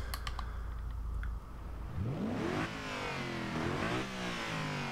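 A 2011 Mercedes-Benz SLS AMG V8 engine revving in Forza Horizon 2 from the cockpit, a low rumble that climbs in sweeping rising revs, followed by repeated blips of the throttle.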